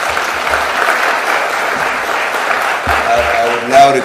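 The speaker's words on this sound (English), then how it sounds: "One more round of applause, please." An audience at a bill-signing ceremony for an affordable housing bill applauds loudly and steadily, with continuous clapping that swells slightly near the end and a voice faintly underneath.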